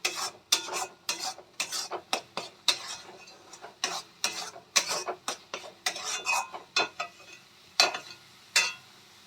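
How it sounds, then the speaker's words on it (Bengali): Spice paste for a Bihari-style rohu fish curry is stir-fried in a pan. Brisk, rhythmic scraping strokes of a spatula repeat close up, about two a second, with a faint sizzle between them and no speech. "আমি মশলাটা একটু ভালো করে কষিয়ে নেব।"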